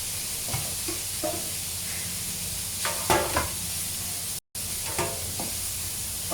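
Noodles frying in hot oil in a pan at reduced heat, a steady loud sizzle with a few scraping stirs and brief bursts of crackle.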